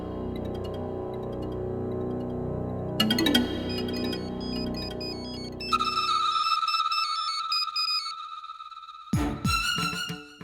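A phone call ringing out in a quiet home: a steady electronic ringback tone with a few repeating beeps, alone and fairly clear, ending in a short burst of tones.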